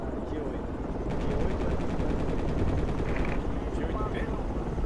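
Machine gun fire in the military shooter game Project Reality, a dense continuous rattle of gunfire mixed with a helicopter rotor drone, loud and steady throughout, with a voice speaking over it.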